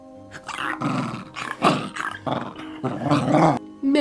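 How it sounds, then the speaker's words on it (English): A dog growls and barks in several loud, close bursts over roughly four seconds, with brief gaps between the outbursts and no talking. "Hark, I hear a bark."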